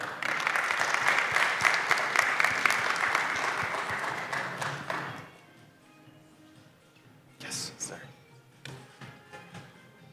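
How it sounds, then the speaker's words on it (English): A conference audience at ConsenSys Connect Bogota applauds Rob Dawson as he comes on stage. The applause is a thick wash that lasts about five seconds and then dies away, leaving quiet room noise and brief sounds of talk. "Again, big applause for Rob."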